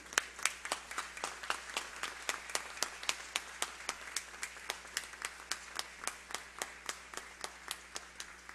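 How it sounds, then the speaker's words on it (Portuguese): Standing audience at a tribute ceremony for the FMU educational complex's 45th anniversary gives sparse, evenly spaced claps, a few dozen sharp hand claps in steady rhythm, moderately close, with no talk. "pedindo a todos que em pé, com uma calorosa salva de palmas, o saúdem"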